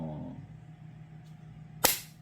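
A single sharp crack from a handheld clapper tool, snapping loudly near the end after a stretch of near silence, with a brief decaying tail.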